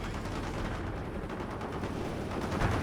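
Sustained gunfire in a World in Conflict battle, a dense continuous crackle of automatic weapons blending with distant explosive rumble, fairly quiet and without talk.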